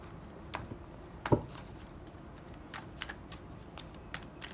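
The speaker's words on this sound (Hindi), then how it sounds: "मैं आपके प्रेजेंट कार्ड निकाल रही हूँ यहाँ पे" Tarot cards being drawn and handled from a deck, with a scattering of quick papery snaps and slides and one sharper slap near the start, close by and with no voices.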